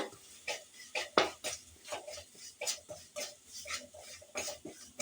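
A spoon stirs gram flour into a mixture in a pan, giving a run of irregular metallic scrapes and clinks against the pan, moderately close and with no talk.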